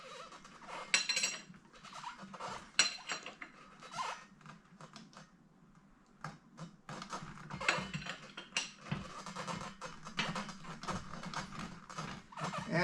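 A 22mm wrench tightens the front fork on a 1969 Suzuki TS250 motorcycle, giving close, irregular metallic clicks, scrapes and clanks of tool on fittings at a moderate level, with no talking.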